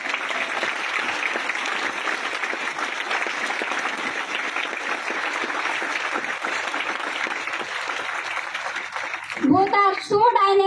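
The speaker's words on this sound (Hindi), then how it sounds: "प्लीज अपनी जगह पे खड़े होकर इन दोनों पर्सनालिटी के लिए ताली बजा दीजिए।" Sustained, loud applause from a standing audience at a success-day gathering fills the room almost without pause, with a brief burst of a voice breaking through near the end.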